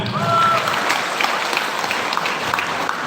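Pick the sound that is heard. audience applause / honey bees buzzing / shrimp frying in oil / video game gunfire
audience applause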